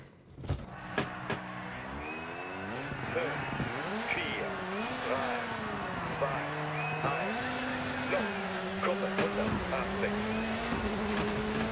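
A low-power rally car engine from the racing game Dirt 4 drones and shifts through gears, rising and falling in pitch, with someone talking over it.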